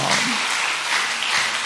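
A church congregation claps together in a steady, dense wash of applause with no pauses.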